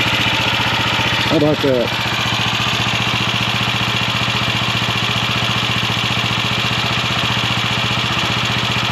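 A restored 1968 Montgomery Ward Riverside 250 motorcycle engine idling steadily up close, a loud, even, slightly rich-running mechanical putter throughout, with someone briefly speaking over it.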